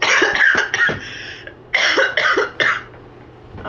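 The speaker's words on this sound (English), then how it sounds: "Now she's going to try to garner sympathy with a cough." A woman coughs in several harsh, rough bursts, close to the microphone, with short pauses between the coughs. No one speaks over them.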